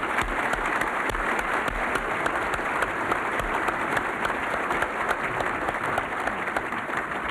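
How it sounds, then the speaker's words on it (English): An audience applauds at a civic event in Erie, Pennsylvania ahead of a Reagan speech, a steady and even wash of clapping from a large crowd that lasts about seven seconds. "Let's have a round of applause."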